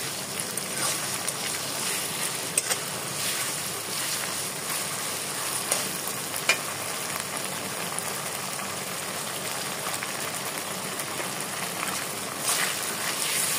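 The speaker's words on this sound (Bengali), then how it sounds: "পেঁয়াজটাকে খুব ভালো মতো ভেজে নিতে হবে" Onion frying in a pan for a Bengali fish-head muri ghonto, a continuous soft sizzle and hiss lasting throughout, with a few faint clicks and no speech.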